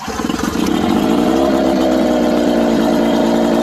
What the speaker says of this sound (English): here's a cold start of the 99 Johnson